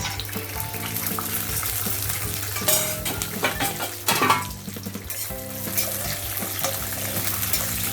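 Peanuts frying in a spoonful of oil in a kadhai, a hiss and crackle with scraping stirs and a couple of louder bursts, layered over steady background music.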